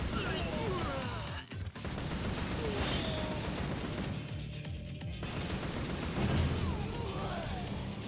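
Gunfire in the video game Yakuza: Ishin Kiwami, dense rapid bursts and crashes filling the scene loudly and nearly without pause, with brief quieter gaps and game voices mixed in.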